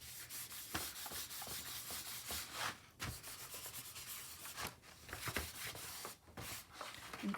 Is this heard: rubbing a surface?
yes